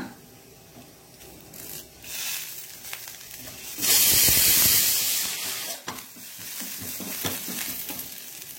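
Urad dal and curry leaves fry in hot oil in a pan for temple-style sambar, giving a steady crackling sizzle that swells into a loud hissing burst midway, with stirring scrapes and no speech.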